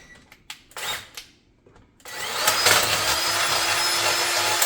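A power drill boring with a 5/8 inch bit, heard close and loud as it spins up after a few short knocks and then whines steadily under load for several seconds.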